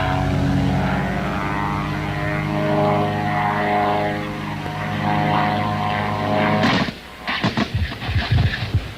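A loud, droning propeller engine of a warplane holds steady, then abruptly cuts into a ragged burst of rushing, rumbling noise as the plane nose-dives close during a rocket attack in Nicaragua.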